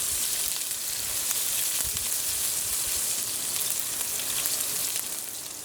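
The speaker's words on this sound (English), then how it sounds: "Now I'm going to go in with the aromatics. And we're going to saute this until it's light brown in color" Onions and other aromatics sauté in a hot pan for Trini curry shrimp, giving a steady, dense sizzle and crackle with faint stirring pops throughout and no voices.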